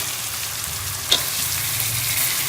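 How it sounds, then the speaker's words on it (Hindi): Chicken fries in a karahi with onion, garlic and ginger, giving a steady dense sizzle with one brief sharp scrape of stirring, close and continuous with no voices. "चिकन को हम भून लेंगे"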